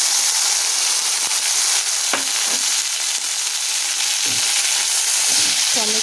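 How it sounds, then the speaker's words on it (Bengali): Tomatoes fry together with onions in a pan for a pona fish jhal, a constant bright sizzle close by with occasional spatter pops and stirring clinks. "টমেটোটা আমরা পেঁয়াজের সাথে খুব ভালো করে ভেজে নেব যতক্ষণ না টমেটোটা নরম হচ্ছে।"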